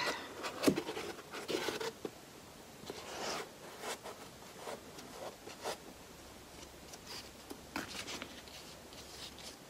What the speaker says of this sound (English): This is just a white wax pencil. And I'm gonna mark.